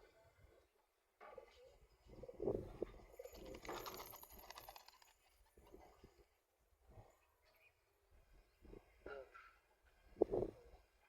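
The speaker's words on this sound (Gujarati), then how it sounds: "આપણે બધું કબૂતર બહાર કાઢી નાખ્યા છે" Pigeons let out of their cage into the open coo in soft, scattered bursts, with a couple of sharper calls standing out near the end, and a voice talks over part of it.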